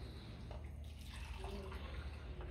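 Hot water is poured into a bowl of wheat flour, sugar and salt for chapati dough, a soft steady trickle and splash, faint and close, with low background murmur.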